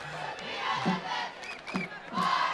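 A crowd at a high school football game roars, with the student section and band seated close, a broad continuous swell of shouting and cheering that rises and falls and stays moderately loud throughout.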